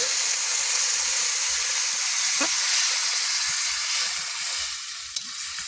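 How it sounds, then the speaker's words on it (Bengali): Water goes into a hot pan of sautéed mixed vegetable curry, setting off a loud burst of sizzling and hissing steam that holds steady and then eases slightly as the bubbling settles, with faint stirring clinks. "তরকারিটা কষাই করা হয়ে গেছে এবারে জল দিচ্ছি"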